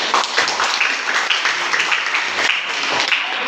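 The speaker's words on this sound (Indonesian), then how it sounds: "Nah, tepuk tangan untuk kelompok 1." A classroom audience applauds a student group presenting an industrial electronics project, a steady, dense wash of many hands clapping at moderate loudness, with no voices standing out.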